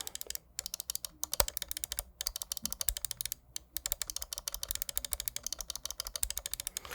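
Main left and right buttons on a Razer Viper gaming mouse are clicked repeatedly up close, making sharp, crisp clicks in quick irregular bursts with a few brief pauses between runs.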